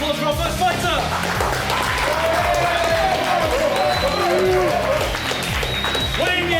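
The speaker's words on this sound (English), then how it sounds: "let's give a round of applause for our first fighter" Crowd at a UK slap fighting event applauding and cheering loudly as the first fighter is introduced, with steady dense clapping, whoops and shouted voices over a thumping music beat throughout.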